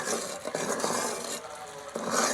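Sugar melted in a little water boils in a pan for makhandi halwa, a dense, steady bubbling hiss that dips briefly and then swells again, with no one talking.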